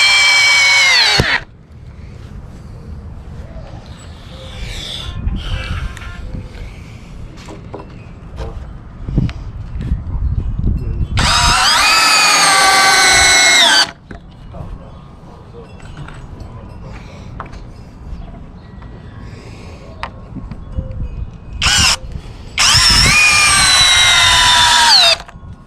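A power drill drives 3-inch exterior decking screws into wood while a raised garden bed is built, with three loud, sustained whirring runs separated by quieter stretches of handling noise.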